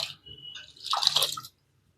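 Rice from the ration shop is rinsed in a pot of water. Soft swishing and dripping splashes go on for about a second and a half, then stop into silence.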